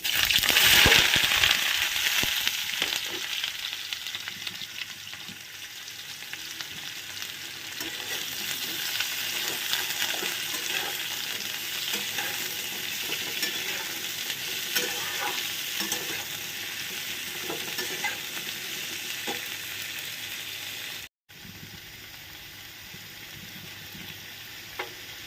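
Pumpkin and bitter gourd frying in a wok with nigella seeds and dried chilli. A loud burst of sizzle as they go in settles into a long, steady hiss with scattered spatula clicks, and nobody speaks.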